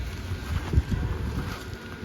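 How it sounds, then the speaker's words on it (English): A breezy day outdoors beside a Halloween inflatable display, with steady wind gusting and buffeting the microphone as a low, continuous rumble. "It's kind of a little bit breezy right now."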